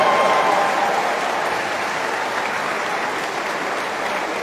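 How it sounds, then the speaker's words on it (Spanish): Steady applause from a church audience, loud and sustained throughout. "Un aplauso, Pepe."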